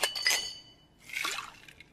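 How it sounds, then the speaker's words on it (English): A cosmopolitan cocktail is poured into a glass, a short clink and bright liquid splash followed by a second, trickling pour, heard close and alone. "May I pour you a cosmopolitan?"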